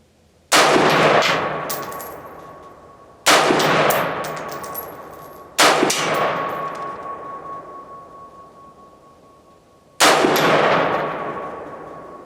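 A rifle with a 1-in-7 twist heavy contour barrel and side-charging upper firing PPU 55 grain ammunition, four loud, sharp shots spaced several seconds apart, each ringing out and decaying slowly, with no talking.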